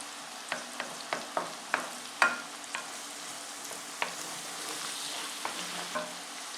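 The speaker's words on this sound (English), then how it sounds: "we got a nice sizzle going on our veg" Onion, garlic, sweet pepper and jalapeno sizzle quietly in a pan, a soft continuous fry broken by a series of light clicks and taps as the vegetables are stirred.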